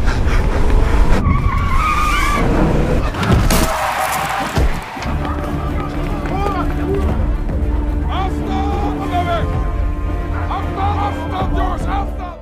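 A special forces car skids hard on its tires and strikes a man in a staged reenactment, a loud tire screech over a busy, crowded background, with voices shouting and talking throughout.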